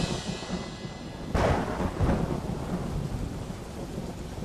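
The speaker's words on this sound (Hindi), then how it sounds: "बारिश आ गई" Cartoon storm sounds: a steady wash of rain with a loud thunderclap rolling in partway through, a second rumble close behind, then continuing rainfall with no voices.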